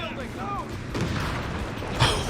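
Grenade blasts and scattered gunfire from a Company of Heroes 3 battle, with muffled booms and crackling shots mixed under a steady din and a sharper blast near the end, while a voice talks over it.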